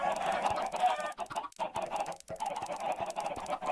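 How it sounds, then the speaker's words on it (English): Chickens cluck over and over in the video game Minecraft, a dense, busy chorus from many birds with short gaps, fairly loud and without talk. "So there ends up being a lot of chickens."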